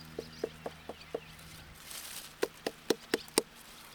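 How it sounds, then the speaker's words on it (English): A whole watermelon knocked with knuckles to judge ripeness, about ten short hollow taps in two loose groups, close and clear with a pause between them. "Just give your watermelon a couple taps or knocks."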